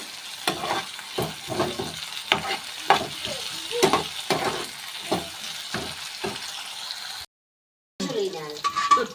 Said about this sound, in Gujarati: दाल में मसालो मिक्सीनो वघार नखाई दઉં છું